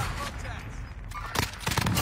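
Video game gunfire crackles in quick bursts of shots, loud and close, with a voice talking over parts of the action.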